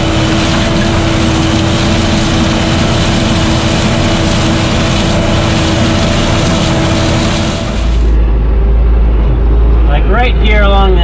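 A John Deere 300 engine runs steadily while picking corn in winter on a muddy field headland, a loud continuous drone that grows heavier and lower near the end, with a brief voice over it.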